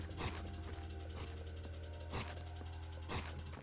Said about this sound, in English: This is an elevator over here, but is this the one I want?